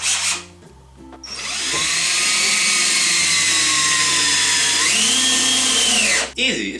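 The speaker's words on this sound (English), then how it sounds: "as you're drilling this, you're going to go all the way to your actual floor" A power drill drives long screws through boards down into a floor while building a feral cat feeding station; a loud, close motor whine holds steady for about five seconds, shifts pitch near the end, then cuts off.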